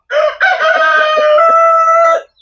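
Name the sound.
chickens crowing outside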